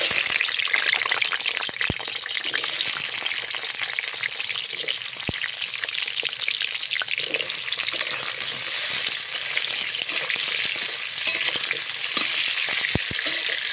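Steady, close sizzling and crackling of potatoes frying in hot oil, a continuous hiss broken by a few sharp pops.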